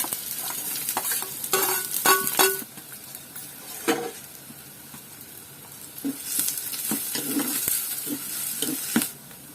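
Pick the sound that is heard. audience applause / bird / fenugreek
fenugreek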